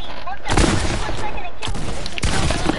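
Fortnite gunfire with bursts of booming shots over busy game noise, three heavy impacts spaced across a dense, loud backdrop, with a voice faintly present.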